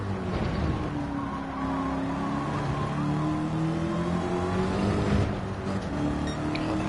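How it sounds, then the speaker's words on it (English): Race car engine in Gran Turismo 7 held against the rev limiter, a loud steady buzzing drone with stuttering pitch, close and continuous with tire noise underneath. "God, that rev limiter hits earlier than I expect."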